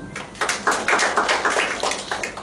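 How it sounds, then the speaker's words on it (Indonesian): A church congregation claps together during a prayer meeting, a brisk, uneven patter of many hands at moderate loudness, continuous with slight swells and no talk over it. "tepuk tangan bagi Tuhan"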